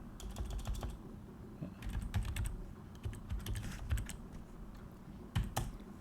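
Rapid clicking of keys on a computer keyboard, typed in quick uneven bursts with short pauses between them, close by and fairly soft, with no talking.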